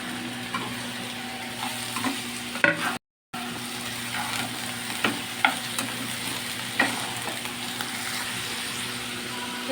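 Capsicum stir-fries in a pan for veg fried rice, giving a continuous sizzle punctuated by repeated scraping and clacking strokes of a spatula, with a brief gap of silence partway through.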